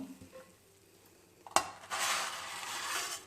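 Fried cabbage flowers being lifted onto a serving plate, a quiet scrape, a sharp utensil clink, then a louder rushing sizzle and scraping that carries on to the end.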